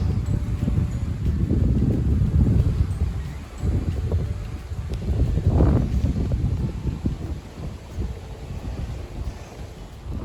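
Steady, blustery wind roars across the microphone at the Rideau Canal locks, with low rumbling gusts swelling and fading throughout, no voices present.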